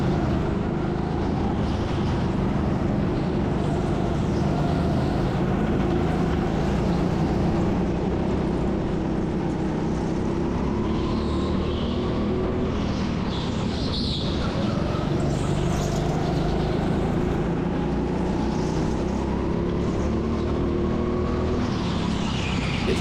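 Go-karts race around an indoor track at TeamSport Sheffield, their engines droning in a steady, continuous whine that rises and falls through the whole stretch, heard loud from on board a kart.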